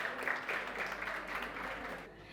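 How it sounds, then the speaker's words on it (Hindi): Audience applause for a team at a talent show event, a dense steady wash of clapping filling the space throughout, fairly loud and continuous before tapering off near the end. "एक बार जोरदार तालियां हो जाएं टीम निश्चय के लिए।"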